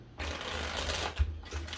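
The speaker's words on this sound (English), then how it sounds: "I'm also going to give this 5 shuffles" A deck of tarot cards being shuffled by hand, a quick close riffling burst with a soft tap partway, fairly quiet and without talk.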